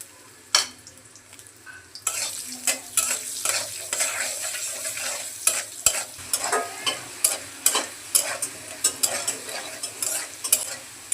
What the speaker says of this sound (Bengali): এখন আলুগুলো ভেজে নেব